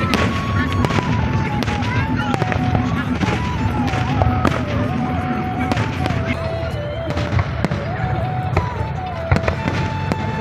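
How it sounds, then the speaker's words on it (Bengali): Fireworks bursting one after another in the sky at the Muscat Night Festival, a continuous barrage of booms and crackling pops with whistling rising tones, loud and close, with crowd voices mixed underneath. "একটার পর একটা আতশবাজি ফুটানো হয় আকাশে"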